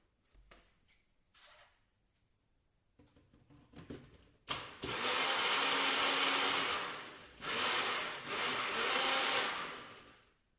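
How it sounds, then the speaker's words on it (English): A NutriBullet blender purees mango in the kitchen, starting after a few quiet knocks and setup sounds, then a loud sustained whirring motor that briefly drops and surges back before cutting off. "let's get this into the NutriBullet. We need to make a puree out of the mango."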